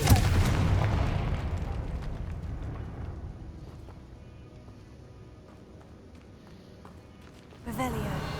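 A Confringo fire blast from a wand in Hogwarts Legacy, set in a tomb chamber with an altar and bones. A loud booming burst opens and fades into a long rumbling tail, followed by a quieter murmur and a fresh burst at the end.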